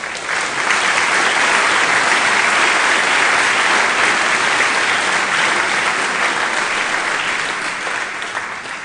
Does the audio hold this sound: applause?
yes